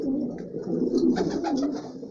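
Pigeons cooing steadily in a breeding loft where pairs are incubating eggs in their nests, with soft overlapping coos running throughout at close range and no voices.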